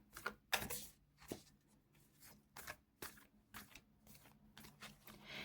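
Tarot cards are shuffled by hand in a string of quick, papery riffles and slaps, close and fairly soft, coming in irregular bursts with short pauses between them.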